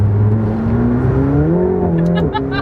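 A McLaren car accelerating from inside the cabin, its engine note climbing steadily in pitch as it pulls hard, loud and continuous, with a brief dip near the end as it shifts.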